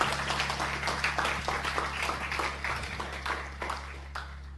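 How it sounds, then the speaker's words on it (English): Audience in a university lecture hall clapping together, a dense patter of hands sustained throughout, steady and moderately loud over a low hum, fading slightly at the end. "So I think that deserves a clap."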